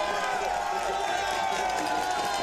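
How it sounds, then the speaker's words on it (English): Huge crowd at the men's elite cyclo-cross world championships applauding and cheering Van der Poel on his home course, a dense continuous roar of clapping and voices with a commentator talking over it. "he's going to get a massive round of applause from the huge crowd here"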